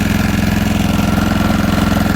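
A snow blower engine idles after starting, a loud, close, rapid and even mechanical putter that holds a steady rhythm with no voices.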